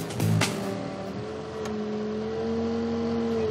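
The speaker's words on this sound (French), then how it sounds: "Grâce à l'agitateur qui est ici, on mélange tout ça afin de bien dissoudre le fumier" Agitator in a biogas plant cylinder churning manure into liquid, giving a steady mechanical hum with a sustained tonal whine that drifts slightly, after a brief thump near the start.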